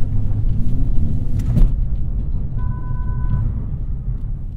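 A Hyundai Kona N car drives with a loud, steady low engine and road rumble throughout, a brief whooshing swell partway and a faint tonal whine near the end, with no talking.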